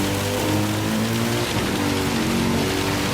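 Heavy rain in a Gran Turismo 7 race at the Red Bull Ring, a steady loud downpour hiss with racing car engines droning beneath it throughout.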